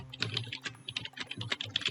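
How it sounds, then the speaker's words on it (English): Code being typed on a computer keyboard: rapid, uneven bursts of close, crisp key clicks with short pauses between, no talking. "we do that by typing in this code here for the character"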